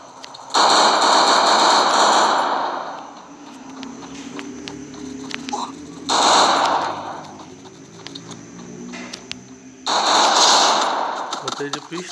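Gunfire in the Free Fire video game: loud bursts of rapid automatic shots at three points, separated by footsteps and quieter game sounds, with a player talking at times.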